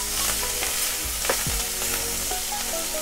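Butter garlic sweet potato stirred in a pan after lemon is added, a loud continuous sizzle with spatula scrapes and knocks, close with no voices.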